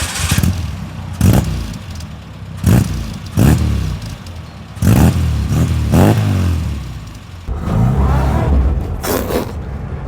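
An Austin A35 van's small engine starts up and revs repeatedly, loud and close, with a rising, falling roar and some mechanical clatter between blips and no talking.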